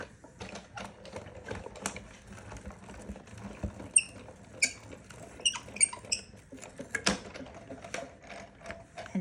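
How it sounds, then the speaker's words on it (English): A 6-inch Sizzix Big Shot die-cutting machine has its handle cranked to roll a cutting plate through, giving a steady run of close ratcheting clicks and gear rattles for about nine seconds with no talking. "And we're rolling it through our Sizzix Big Shot, the 6-inch one."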